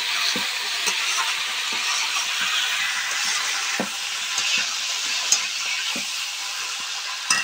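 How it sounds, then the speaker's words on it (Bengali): Fish frying in a pan, a steady dense sizzle and crackle of hot oil with a few sharp pops and stirring clicks, close and continuous throughout with no talking. "এবার মাছগুলো দিয়ে দিলাম।"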